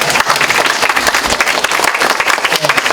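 An audience at a commemorative lecture gives the director a round of applause, with loud, dense, close clapping that continues steadily throughout.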